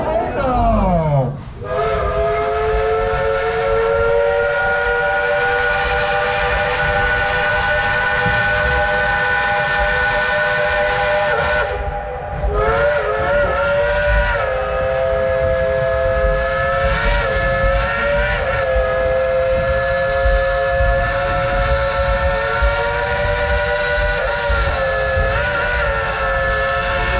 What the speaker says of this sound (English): Would y'all like to hear the engineer play a tune on that Lunkenheimer 3-chime whistle?